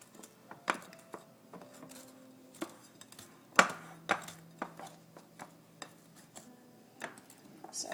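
Butter being cut into flour for a crumbly apple pie topping: faint, irregular clicks and scrapes of a utensil against a bowl in a quiet kitchen, with a few sharper taps.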